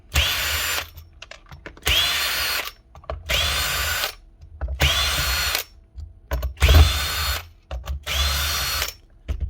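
A power drill driving screws out of a Makita or DeWalt power tool under repair, in six loud bursts of a couple of seconds each, separated by short pauses and small clicks.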